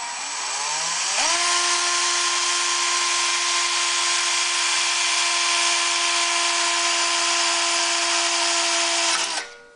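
A power drill bores holes for temperature sensor screws on a Honda EU3000iS generator, whining up to a loud, steady high-pitched drone that holds for about eight seconds before spinning down, close and with no talking.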